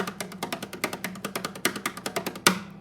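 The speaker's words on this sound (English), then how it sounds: "What we're gonna learn is called a paradiddle" Rapid, evenly paced tapping with hands in a repeating paradiddle pattern, light strikes with occasional accents, ending on one louder hit.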